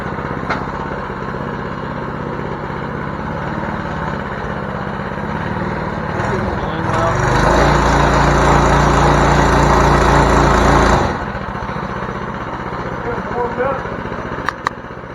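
Small engine of a home-built, budget wheelie trike race bike running steadily, swelling louder for a few seconds of revving midway before settling back to a rough idle, with people talking nearby.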